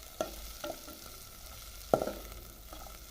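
Vegetables for masala noodles, including cabbage, stirred in a pan, a quiet sizzle with a few scattered scrapes and clinks of the spoon and no speech.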